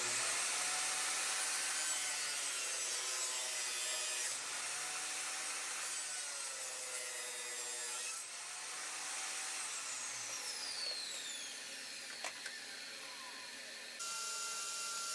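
Handsaw cutting a walnut offcut into tapered wedges for a mallet head, a steady close rasping stroke that continues throughout, with brief pauses between cuts and no talking.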